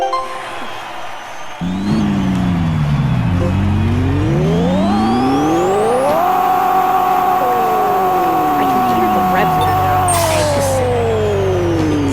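A video game Honda Civic engine revs up in rising whines, then holds a loud, high, steady scream around 11,000 RPM before dropping back down.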